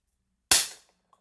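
Single sharp shot from an LFJ ARES S&W M686 4-inch CO2 revolver, a close, loud crack with a quick decaying tail, isolated in near silence.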